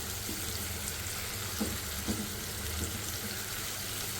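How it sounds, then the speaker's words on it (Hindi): Garlic frying in a pan for a raita, a steady low sizzle with a few soft pops and clicks, close and fairly quiet, with no speech. "पहले मैं इसे अच्छी तरह फ्राई कर लूँ"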